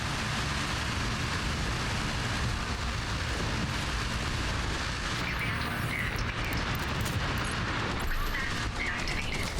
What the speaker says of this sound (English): The amount of gunfire those Hellfires put out is just...